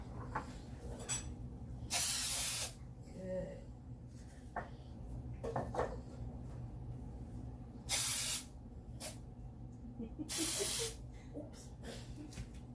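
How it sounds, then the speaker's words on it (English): Non-stick cooking spray misted into coffee mugs, three distinct hissing bursts of about half a second each, close and loud, between quiet handling clinks and a few brief spoken words. "we're going to spray the inside with the non-stick spray"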